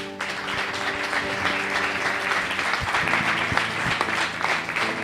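A church congregation applauds steadily throughout, a dense continuous clapping that sits over sustained tones, likely music playing underneath.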